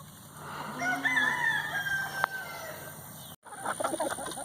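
Backyard hens kept for eggs in their new coop cluck, and a rooster crows nearby in one drawn-out call, followed by a brief pause and more scattered clucking close by.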